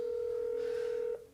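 A telephone call goes unanswered, with a steady ringback tone droning at close range for about a second before cutting off, no voices.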